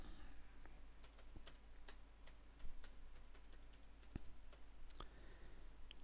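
Typing on a computer keyboard comes through as quiet, irregular clicks of keystrokes over a low steady hum, faint and close, with no talking.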